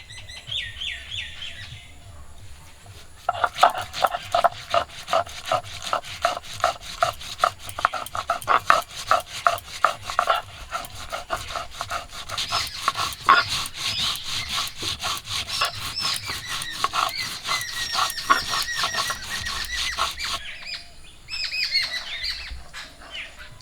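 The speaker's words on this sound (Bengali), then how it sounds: "মশলা বেটে নেব এখন সর্ষে বেটে নেবো" Mustard seeds being ground into paste on a grinding stone make a steady back-and-forth scraping, close and fairly loud, running in even strokes for most of the stretch before stopping.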